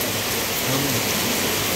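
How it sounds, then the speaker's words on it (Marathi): Heavy rain pours down in a dense, continuous hiss, loud and close, with no other sounds standing out. "हे बघा इतका जोरात पाऊस चालू."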